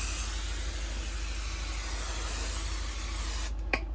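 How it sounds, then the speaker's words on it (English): Steady broadband spray hisses onto a Fiat Ducato van panel as cleaner is applied, continuous and close for most of the stretch before cutting off abruptly, followed by a brief click. "I'm going to spray it off"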